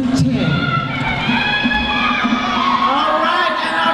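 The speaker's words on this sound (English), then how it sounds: "our crowd is so restless" Restless crowd at a Hura Tahiti Tahitian dance solo competition, a steady dense wash of cheering, shouting and children's voices throughout, loud and close, with no single voice standing out.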